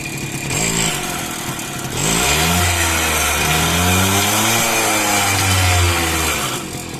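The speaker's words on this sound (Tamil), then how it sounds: "இன்ஜினோட சவுண்ட் அப்படிங்கிறது நல்லாவே இருக்குது." A 20-year-old TVS Champ moped engine idles, then revs up and holds a rising, buzzy two-stroke-style drone for several seconds before dropping back, loud and close with no talk.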